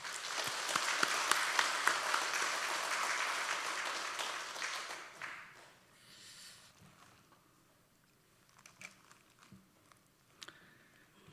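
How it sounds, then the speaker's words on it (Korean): A church congregation applauds to welcome a missionary, a loud, dense wave of clapping that holds for about five seconds, then fades to scattered claps and quiet room noise. "선교사님을 박수로 환영합시다."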